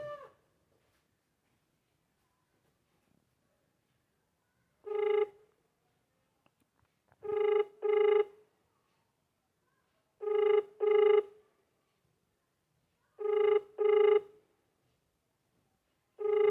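An outgoing phone call rings back in a buzzy double-pulse pattern, with four clear rings separated by silent gaps and a fifth beginning at the end.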